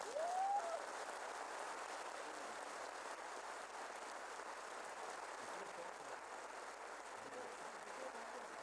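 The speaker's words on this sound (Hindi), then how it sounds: "दोस्तों, आप हमेशा हमारे सर पर दोनों लीजेंड्स के लिए जरा जोरदार तालियां।" Audience applause at a music festival honouring two tabla and flute legends, a broad, steady wash of clapping that stays faint and distant throughout with no voices.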